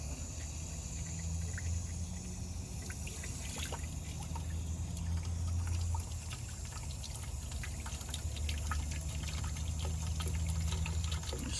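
Coolant flushing from a dangling heater core hose into a bucket on an OBS Ford F-350, a steady continuous trickle and splash of liquid with faint chirping insects in the background.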